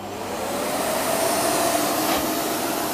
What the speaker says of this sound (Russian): Мы слышим вообще поток воздуха, а вообще сам пылесос его не слышим практически.